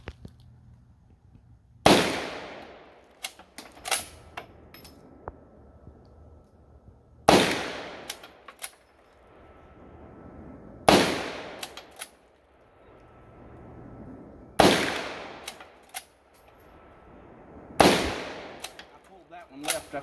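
Five loud, sharp rifle shots from a bolt-action AR, spaced a few seconds apart outdoors, each followed by a short echoing tail and the mechanical clacks of the bolt being cycled between shots.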